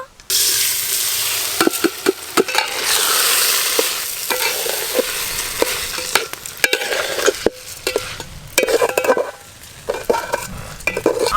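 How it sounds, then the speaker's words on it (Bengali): Spice-coated rice tumbles into a pot for Bengali pulao with whole garam masala and bay leaves, then a spoon stirs and scrapes steadily through a continuous sizzle, with sharp metal clinks against the pot scattered throughout. "মশলা মাখানো চাল এবার দিয়ে দেব"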